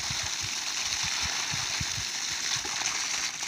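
Water pours out of a motor pump in a steady, close rushing hiss, with soft low knocks and gurgles running underneath throughout.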